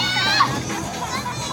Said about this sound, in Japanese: 子供の声しか聞こえないんで